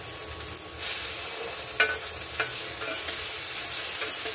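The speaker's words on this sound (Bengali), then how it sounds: "অল্প কটা দিলাম কালো জিরে ফোড়ন। আর দেবো হচ্ছে রসুনটা, আর দেবো হচ্ছে টমেটো কুচিগুলো" Garlic and chopped tomato drop into hot oil already crackling with nigella seeds, setting off a sudden loud sizzle that holds steady, with a few sharp spatters and stirring scrapes over the next few seconds.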